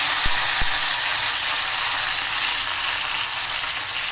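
Mustard seeds splutter in hot oil while tempering for a drumstick sambar: a steady close frying hiss with two sharp pops early on, then continuous sizzling.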